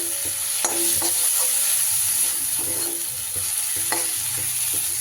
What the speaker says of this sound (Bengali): পেঁয়াজ আর টমেটো কিন্তু খুব সুন্দর করে আমার কষা হয়ে গেছে